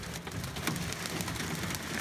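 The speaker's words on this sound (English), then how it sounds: "the hail destroying my car" Hail pounding a car during a storm, a dense, steady hard rattle of many impacts on the body and glass, loud and continuous without any voices.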